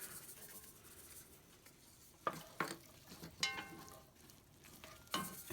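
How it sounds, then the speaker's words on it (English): A flat wooden spoon stirs chicken noodle soup ingredients in a pot, giving soft scrapes and several louder knocks against the pot's sides in an uneven rhythm, close and quiet with no talking. "And now I'm just stirring."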